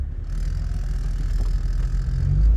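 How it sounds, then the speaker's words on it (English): A car approaches along the Alaska Highway, a steady low engine rumble and tire roar swelling slightly toward the end, heard from a nearby vehicle with no talking. "There's a car coming."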